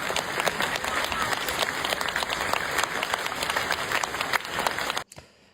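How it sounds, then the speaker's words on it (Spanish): Dense, sustained applause from an audience fills the space evenly before stopping abruptly near the end, with faint voices mixed into the clapping. "supongo que serán muchos aplausos"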